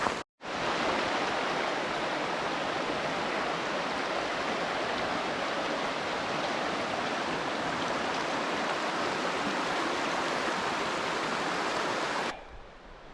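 Hazel Creek, a mountain stream in a backcountry watershed, rushes steadily and loudly over rocks at a rock-hop crossing, a continuous broadband wash that holds level for about twelve seconds before cutting off abruptly.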